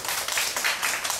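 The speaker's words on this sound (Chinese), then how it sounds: "大家可以先掌声欢迎他一下吗" An audience at a high school earth science workshop claps to welcome a guest teacher, a dense, even patter of applause filling the short moment without voices.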